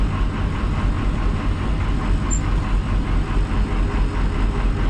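A Cummins diesel engine powers a crop sprayer idling with a loping rhythm inside a shed before a wheat fungicide application, giving a steady, loud, low rumble throughout with no talk.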